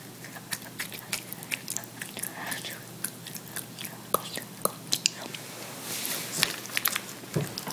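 Planters snacks crunch between the teeth in close, quiet chewing, with irregular crisp bites and soft mouth sounds repeating over several seconds.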